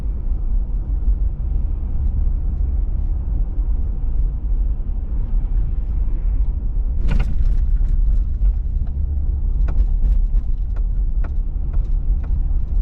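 A car drives east along Lakeshore Boulevard with a constant low road rumble and engine hum from inside the cabin, broken by a brief sharp clatter midway and a few light ticks and knocks later.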